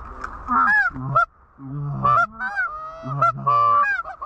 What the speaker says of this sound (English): Got some more geese up right here